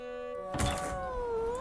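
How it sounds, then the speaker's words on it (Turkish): A cartoon cat from the Caillou series gives a short meow-like cry over a soft background tone, followed by a sustained, gliding musical note. "Aptal kedi."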